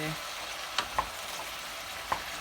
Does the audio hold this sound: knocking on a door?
no